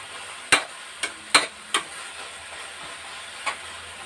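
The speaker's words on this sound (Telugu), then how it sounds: "ఇలాగా బాగా కలిపేసి మనం ఫ్లేమ్ హైలో పెట్టుకుని బాగా కలపాలి" Gongura leaf mixture with salt and chilli powder being stirred in a pan over a high flame, a few sharp scraping clacks of the spoon against the pan over a soft, steady sizzle, with no voices.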